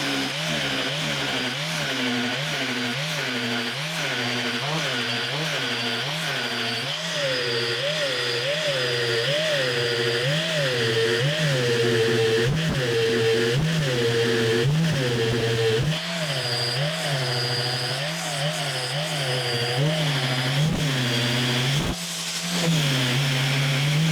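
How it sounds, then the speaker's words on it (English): A grinder flattens an aluminum meat slicer part against a machined surface, a loud, continuous motor whine that wavers rhythmically in pitch as it bites, lasting over twenty seconds with no talking. "we're gonna go ahead and start working on grinding this flat to this machine surface"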